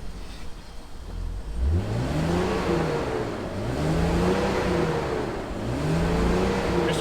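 A BMW Z3 3.0 with misfires across several cylinders revs up close by in three rising and falling sweeps, its tone swelling and dropping with each blip of the throttle.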